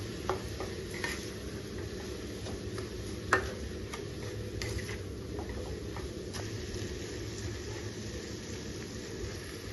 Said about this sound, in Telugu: ఒకసారి కలబెట్టుకుని ఫ్రై చేయాలి. ఇట్లా వేయించాలి.